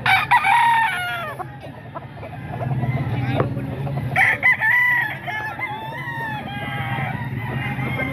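A young gamefowl stag crows repeatedly in a farmyard with other roosters and hens, the long rising calls loud and close, with clucking and someone talking in the background.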